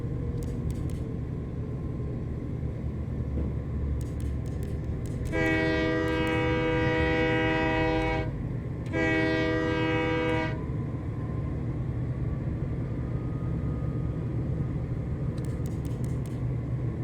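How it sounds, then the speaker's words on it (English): A locomotive in the train-driving game Train Life sounds two long, loud harmonic horn blasts, the second slightly shorter, over a steady low engine and rail rumble. "then I'll honk at that animal that's on the tracks"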